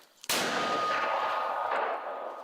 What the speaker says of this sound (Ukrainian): Мінометом 120-го калібру працюють по ворожих засідках